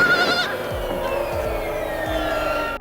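A baby mountain goat on a cliffside gives a loud, wavering bleat, close and sustained, with a higher cry at the start and faint low rhythmic thumps beneath.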